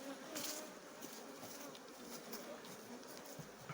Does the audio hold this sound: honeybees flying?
yes